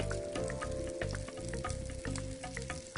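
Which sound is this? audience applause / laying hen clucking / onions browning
onions browning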